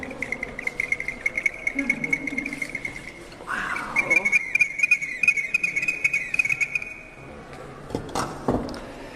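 An anthropomorphic ceramic whistling bottle with a reverberating chamber gives steady, high, sustained whistle tones, fairly faint, with soft background noise and a few clicks.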